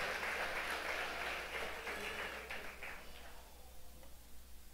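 A church congregation applauding Jesus during worship, a dense, fairly distant wash of many hands clapping that gradually fades out over a low steady hum.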